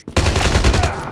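A sentry gun in Call of Duty Mobile fires a rapid, loud burst of closely spaced shots that starts abruptly and lasts about a second.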